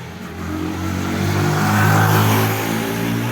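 A motorcycle engine, a Yamaha R15, revs up loudly and steadily, its pitch climbing and holding near the middle before easing slightly, with no voices.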